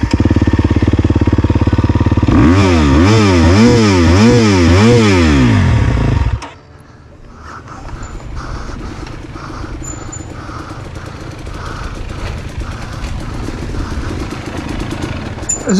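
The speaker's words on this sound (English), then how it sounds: "Start your bike and rev it." A GasGas EX250F dirt bike roars close and loud, its revs rising and falling in rapid repeated bursts for several seconds, then drops to a lower steady engine rumble with small blips on a wooded single track.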